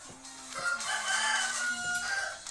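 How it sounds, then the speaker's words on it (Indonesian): A rooster crows once nearby, a drawn-out cock-a-doodle-doo lasting over two seconds, loud and clear with no talk over it. "Suara ayam"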